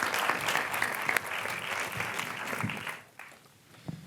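An audience at a contemporary art and performance talk in Balboa Park applauds to welcome a speaker to the stage, sustained clapping from a crowd that thins and fades out near the end.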